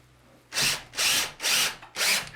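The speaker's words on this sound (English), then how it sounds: "I'm going to put the first screw in right here" A power drill drives a screw through a wooden shelf board into a wall stud, coming in four loud, close bursts of roughly equal length separated by short pauses. No one speaks.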